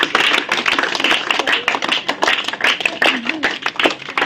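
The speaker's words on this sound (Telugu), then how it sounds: "క్లాప్స్ కొట్టినారు అందరికి" A group of children in a classroom claps together after a spelling test, a dense, fairly loud run of hand claps lasting several seconds.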